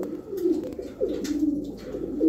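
A flock of young ash-grey pigeons kept together in a loft coos continuously, soft throaty warbles overlapping in a close, low murmur with no voices.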